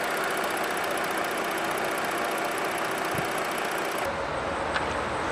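Idling 2018 Ford Explorer with a 2.3-liter I-4 engine, a steady mid-pitched hum and rumble heard up close with no speech.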